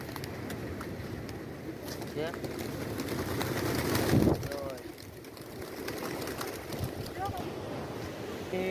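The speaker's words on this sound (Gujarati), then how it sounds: "અહીંયા કેટલા બધા કબૂતર આવ્યા જો" Pigeons gather at the Gangeshwar Mahadev temple in Diu, soft cooing calls now and then over wind and background bustle near the sea, with people talking nearby.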